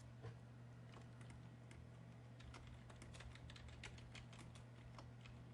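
Steady run of keyboard typing, quick irregular key clicks close to the microphone over a constant low electrical hum, with no voices present.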